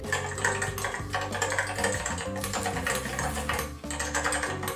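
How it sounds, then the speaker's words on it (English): Custom mechanical keyboards rattle away in fast, continuous typing at about 140 words per minute, dense clacking keystrokes mixed with a steady musical backing. "the pure, unadulterated sounds of custom keyboards rattling away at 140 words per minute"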